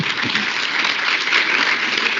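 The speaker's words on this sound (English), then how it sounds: "So please give them a round of applause." An audience at a conference stage claps for the panelists, a dense, even burst of applause that holds steady throughout.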